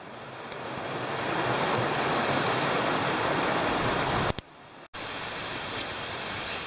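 A mountain stream in the White Mountains rushes steadily nearby, a loud broadband wash of flowing water with a brief break near the end.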